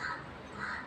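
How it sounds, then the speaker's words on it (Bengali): A crow caws twice, close by and fairly loud, with a short pause between the two harsh calls. "ওই তো কাক এসছে"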